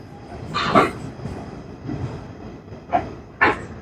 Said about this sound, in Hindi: प्लेटफॉर्म नंबर 2 पर ये ट्रेन इन की है।